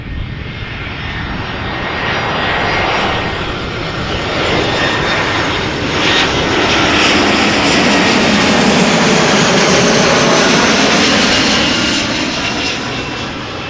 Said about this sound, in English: Embraer 190 passing by, going to Oslo, and Aer Lingus A320 arriving from Dublin, Ireland